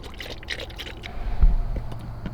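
Coolant mixture poured into the radiator of a Nissan GTR, a soft liquid splashing and trickling that swells near the midpoint, close by and moderately loud, with faint background noise.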